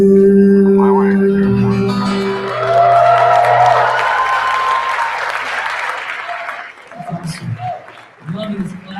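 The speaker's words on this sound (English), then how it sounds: "I'm loving this clap thing you guys got going on the front row here" An audience at a breakout session claps and cheers loudly for several seconds, the applause fading out, with people talking over and after it.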